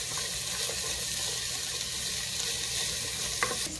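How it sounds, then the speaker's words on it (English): Ingredients for Filipino chicken macaroni soup (sopas) sauté in a pan, giving a steady, close sizzle with light stirring scrapes and no talking. "Saute it for like 3-4 minutes."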